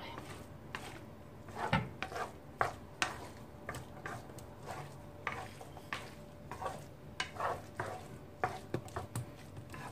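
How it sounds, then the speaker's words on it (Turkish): Cooked chickpea rice pilaf being stirred in a pot with a spoon, giving soft scraping and scattered light clinks at an irregular pace, close and fairly quiet, with a faint steady hum behind. "Şimdi karıştıracağım"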